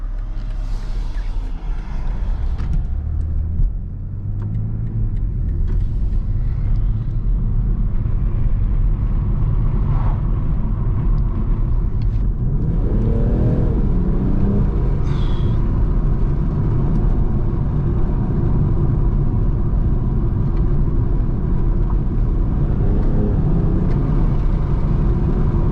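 A 2021 BMW M340d diesel saloon cruises along a 60 road with its windows dropped slightly, giving a steady low engine drone and road rumble with wind hiss, continuous and fairly loud from inside the cabin.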